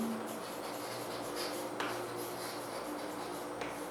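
A pen scratches out a genetics heredity problem in a few soft, brief strokes, faint beneath a steady background hiss.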